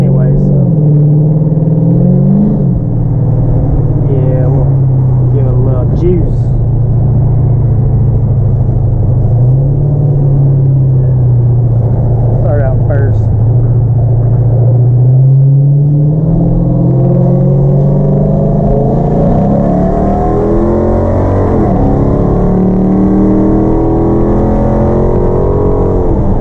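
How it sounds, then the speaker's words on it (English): Traffic on an interstate hemmed in by a barrier on each side, a loud continuous rumble of passing cars with engine drone rising and falling, heard from inside a vehicle while a voice talks over it. "Cool thing about this little spot on the interstate is it's got like a barrier on each side, so the car sounds pretty loud."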